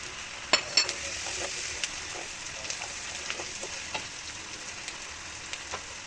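Oil sizzles and crackles softly as eight or nine garlic cloves go into frying mango pickle, with scattered sharp pops and faint clinks of a spoon, quiet and close.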